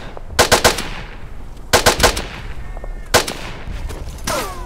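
Gunfire in the World War I shooter game Verdun: several quick bursts of rifle and machine-gun shots, loud and close, separated by short gaps with a faint background din.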